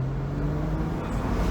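A Saturn Sky roadster passes nearby on the road, a steady low engine and tire rumble heard from inside a moving car, continuous and fairly loud with no talking.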